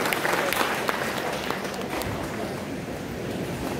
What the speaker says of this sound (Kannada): ಚಪ್ಪಾಳೆ ಬಡಿರಿ, ಸುಮ್ಮನೆ ಹೀಗೆ ಮಾಡಬೇಡಿ